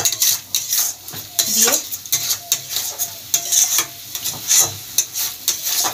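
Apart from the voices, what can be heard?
stirring and mixing cashew paste into curry in a pan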